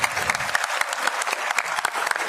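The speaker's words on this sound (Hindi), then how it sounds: "जोरदार तालियां हमारे अध्यक्ष जी के लिए" Applause at a women's conference in Panchkula, Haryana, for the party president: a crowd clapping steadily and briskly, moderately close, with no voices over it.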